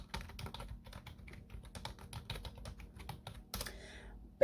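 Rapid, uneven keystrokes on a computer keyboard as a password is typed, close and fairly quiet, ending in a sharper burst of clatter near the end.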